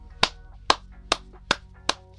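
Five sharp, isolated hand claps land at roughly even half-second intervals, close and fairly crisp against a quiet background.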